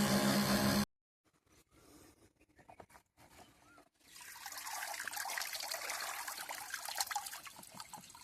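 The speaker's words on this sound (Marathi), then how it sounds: "आता ही टाकी भरते" A brief loud burst, a few quiet knocks and drips, then a steady rushing stream of water filling a farm tank, continuing to the end.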